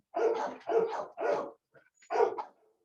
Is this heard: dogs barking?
yes